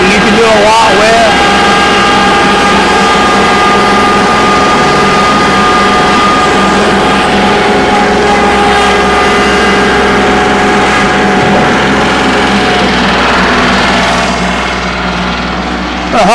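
A 2023 Kubota L3902HST compact tractor engine drones steadily and loudly in high range, a constant mechanical hum close by with little change in pitch.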